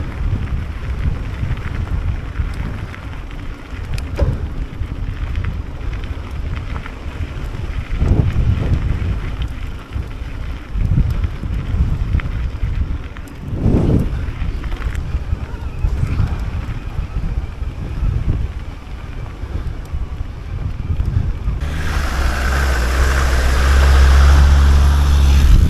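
Strong gusty wind buffets the microphone on an e-mountain bike ride around a reservoir loop in stormy weather, a constant low roar with heavier thumping gusts, swelling louder toward the end.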